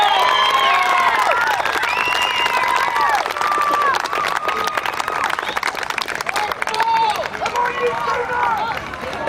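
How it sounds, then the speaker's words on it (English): Youth soccer team cheering and applauding, a crowd of young voices shouting and clapping loudly and continuously, with chatter mixed in throughout. "Give them a cheer, guys."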